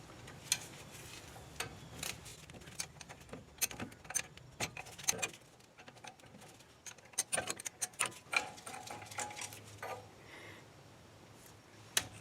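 A 17 mm wrench clicks and ratchets while a ball joint bolt is turned on a Dodge Dakota, giving irregular metallic ticks and clacks close by, with no one talking.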